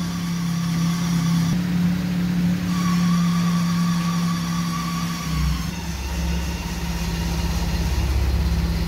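A car engine that would not drive off cranks and catches, then idles with a steady hum and tonal drone, the pitch dropping and shifting partway as the engine settles, loud and close with no talking.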